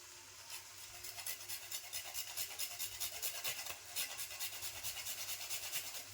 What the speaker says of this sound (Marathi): आपल्या याच्यावरच थोडंसं आता जायफळ किसून घ्यायचं आहे.